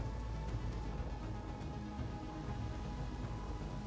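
Steady rain hisses down across a prehistoric park in the dinosaur management game Jurassic World Evolution, a dense, even wash of falling drops that holds at an unchanging level throughout with no talk over it.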